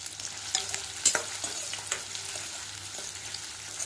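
Raw bananas sauté in oil in a pan over a high gas flame, giving a soft, steady sizzle broken by scattered scrapes and clicks of stirring. No voices.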